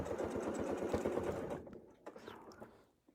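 A sewing machine stitches a continuous decorative motif, a close rapid whirring run for about a second and a half before stopping, followed by quieter handling clicks and faint rustles.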